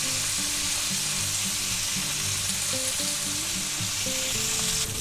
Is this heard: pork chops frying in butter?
yes